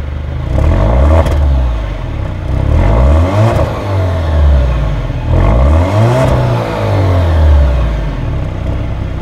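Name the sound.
Alfa Romeo Giulia Veloce engine revving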